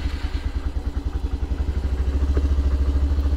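A Honda Grom small-displacement motorcycle rides on a cold day after light snow, its engine putting out a steady, rapid pulsing drone with mechanical clatter that grows slightly louder and fuller toward the end.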